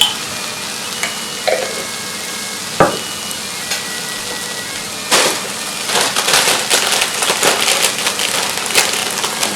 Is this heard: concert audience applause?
no